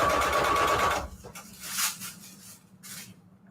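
A sewing machine runs in a dense, steady stitching burst while joining quilt strips for a string quilt patchwork cover, then stops abruptly, leaving faint handling noises and a few soft rustles.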